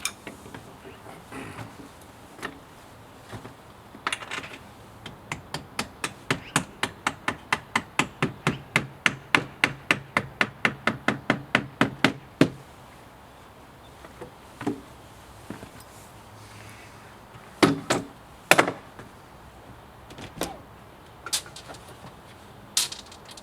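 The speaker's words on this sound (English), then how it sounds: "Now I gotta go get a rubber mallet, pound the top pin in." Rubber mallet pounding the top hinge pin of a tight-fitting wooden door: a steady run of about twenty evenly spaced knocks, then a few scattered heavier blows, close and fairly loud with no talking.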